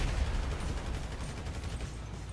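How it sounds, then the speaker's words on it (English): Gunfire in a GTA 5 Online team deathmatch, a dense, continuous rattle of shots that stays loud and steady throughout, with no talking. "Let me just shoot him."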